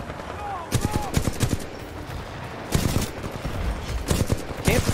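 Bursts of rapid gunfire in the sci-fi shooter Titanfall 2, several sharp volleys and single shots spaced across the clip over a steady game backdrop, with a little voice in the mix.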